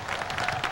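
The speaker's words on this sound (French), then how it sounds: "Applaudissons le peuple haïtien." A large crowd at a Haitian political gathering applauds in a dense, continuous patter of clapping, heard briefly at moderate loudness.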